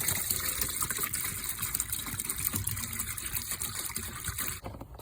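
Zep degreaser poured into an empty container: a steady, close gushing and splashing of liquid that runs continuously and cuts off near the end.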